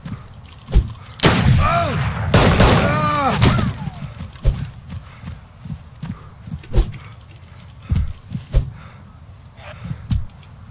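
In the online survival game DayZ, sharp gunshots crack out repeatedly and irregularly, loud and close, while a voice shouts and talks over a dense burst of fire early on.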